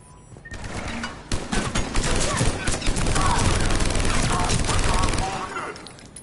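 Sustained rapid gunfire in a video game firefight, dense overlapping bursts of shots that begin after a brief quiet moment and continue loudly throughout, with a voice faintly mixed in.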